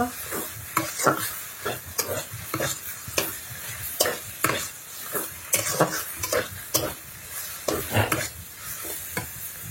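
Vegetables sizzle in a hot pan while a spoon stirs and scrapes in repeated strokes, with clinks of utensil against metal; no voices.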